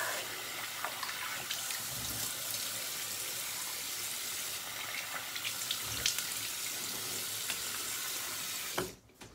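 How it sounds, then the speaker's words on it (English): Running tap water splashes steadily as a safety razor is rinsed off in a sink, close and continuous, with small clicks and a sudden drop as the flow stops near the end. "Rinse this off real quick."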